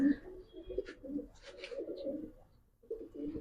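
Racing pigeons at a pigeon farm, soft low cooing in short repeated phrases close by, with faint chirps, under quiet nearby talk.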